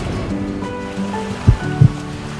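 Waves break and wash against a remote northern lake shore at a campsite by a fly-in fishing lodge, a steady close surge and hiss with a couple of sharp splashing thumps near the end.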